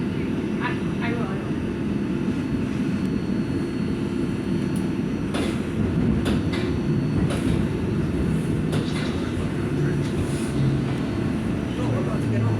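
Steady low rumble of a train riding through downtown Buffalo, New York, with continuous rolling drone and occasional clanks, heard from inside the car while people talk nearby.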